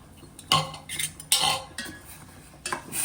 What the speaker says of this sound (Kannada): ಇದು ಇವಾಗ ಕುದೀತಾ ಇದೆ ಸೊ ನಾನು ಅಕ್ಕಿ ರವೆ ತೊಗೊಂಡಿದ್ದೆಲ್ಲ ಹಿಟ್ಟು ತೊಗೋಬಾರ್ದು ರವೆ ತೊಗೋಬೇಕು ಅದನ್ನು ಹಾಕ್ತಾ ಇದ್ದೀನಿ